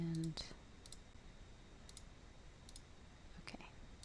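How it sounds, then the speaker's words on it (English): A computer mouse gives a few quiet, sharp clicks spaced across a near-silent moment, with faint breathy voice sounds in between. "I'm going to right click, press edit"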